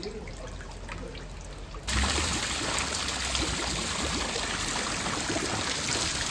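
Water pours through a channel at a village water mill. A softer trickle suddenly swells into a loud, continuous rushing flow that holds steady to the end.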